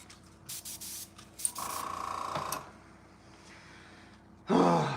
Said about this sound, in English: So that's why I like to prime with an airbrush, okay?